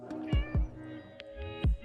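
A cat meows several times in quick succession, close and fairly quiet, with short breaks between calls.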